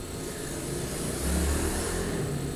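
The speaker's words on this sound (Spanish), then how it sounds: "moto pasa cuando grabo" A motorcycle engine passing by outside, a low steady drone that swells slightly louder midway before easing off, distant and muffled with no talk.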